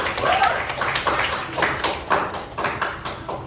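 Scattered clapping from a class of students during a lesson on critical thinking, a few uneven rounds of claps close by with some faint talk mixed in.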